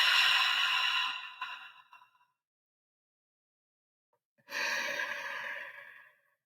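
Two slow, deep breaths during a guided meditation: a long audible exhale, a pause of near silence, then another breath starting, close and alone with no talking.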